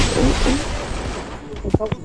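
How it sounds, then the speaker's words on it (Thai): A grenade blast in the Free Fire battle royale game bursts as a loud, broad rumble at the start, fading over a couple of seconds while a player talks excitedly over it. "ระเบิดระเบิดระเบิด"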